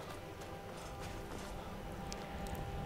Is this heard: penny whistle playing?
no